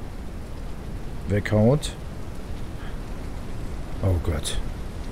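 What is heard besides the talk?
rain in the video game No One Survived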